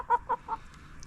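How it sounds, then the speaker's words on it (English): Young chickens clucking close by in three short, separate calls, with a fainter chirp at the end and no other noise. "those are turning out to be really beautiful chickens"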